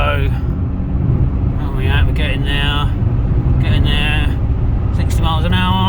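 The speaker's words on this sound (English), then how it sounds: "Come on, got my little car, foot to the floor." A Fiat 500 1.2 accelerates hard with the pedal floored, a steady loud engine drone heard from inside the car under a man's speech.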